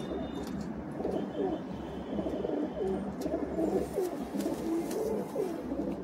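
Soft, continuous cooing from Madrasi pigeons in a Kolkata loft, with several birds' low repeated coos overlapping steadily and fairly close, with no voices.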